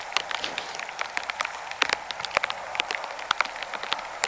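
Rain falling on a morning in moose country, a steady patter of close, irregular drops striking surfaces over a soft wash of background rain, no voices.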